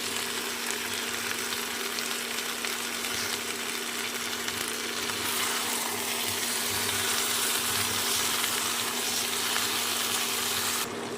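Prawns and jackfruit sautéing in a pan give a steady, dense sizzle that runs unbroken throughout, close and fairly loud, with a low hum underneath and no talking.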